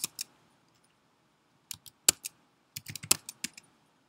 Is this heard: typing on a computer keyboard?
yes